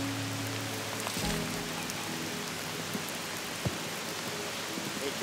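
Steady rain patters across a golf course at TPC Myrtle Beach in a continuous broad hiss, with a few faint knocks beneath it.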